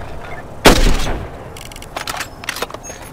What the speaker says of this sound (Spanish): así que ya podemos dispararle al portátil